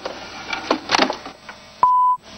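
A telephone left off the hook gives a single sharp electronic tone lasting about a third of a second, preceded by faint rustling and handling noises.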